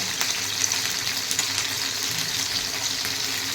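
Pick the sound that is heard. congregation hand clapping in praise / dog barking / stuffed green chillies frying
stuffed green chillies frying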